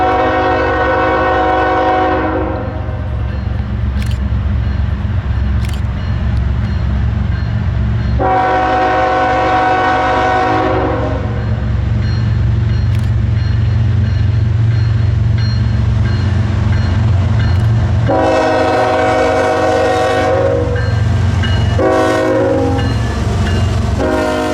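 A BC Rail Blueberry locomotive passes close by, pulling a train over a continuous loud rumble of wheels and engine. Its horn sounds in several long blasts, then in shorter bursts near the end.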